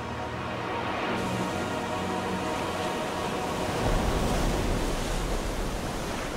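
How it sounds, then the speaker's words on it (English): Ocean surf pounds the coast in a continuous loud roar, with a heavier wave surging in near the end and no voices. "If only you can stand to live under the sledgehammer force of the surf."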